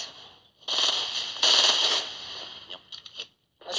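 Machine gun fire in Fortnite rattles out in two loud, dense, crackling bursts, followed by a few scattered shorter pops before going quiet.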